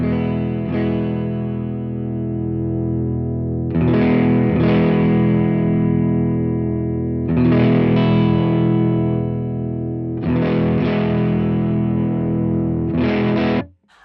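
Electric guitar through a Supro Airwave amp with the boost on, playing heavy, slightly broken-up chords that ring and sustain in four repeated phrases, loud and close, ending abruptly.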